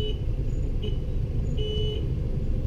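Two car horn honks, one short and one longer, sound over a steady rumble of engines and traffic in a jammed town street.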